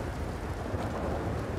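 Rain and distant thunder from a storm in the video game Red Dead Redemption 2 form a faint, steady broadband wash for under two seconds.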